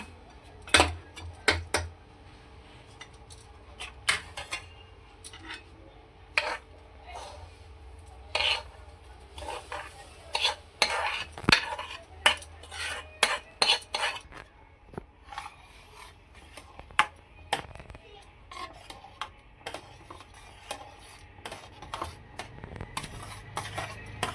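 Roasted semolina for upma being stirred in a pot of boiling water with peas, making a steady scraping rasp with frequent sharp clinks of the spoon against the pot.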